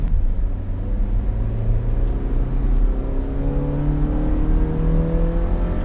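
The 2-liter engine of a 2017 Toyota Innova revs steadily higher, its droning pitch climbing as it runs continuously, close and loud, with no voices.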